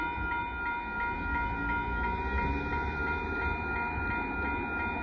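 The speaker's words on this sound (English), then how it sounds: "Southern Union Pacific Rock train with Northbound Southern Trail and more stuff on the way" A northbound Union Pacific rock freight train rolls past at a road crossing in Austin, Texas, with a loud, continuous rumble and steady rail noise throughout and no voices.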